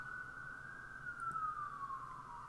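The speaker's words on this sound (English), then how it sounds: "Siren." A faint, distant emergency siren holds a steady wailing tone that slowly falls in pitch, sounding continuously under a low background rumble.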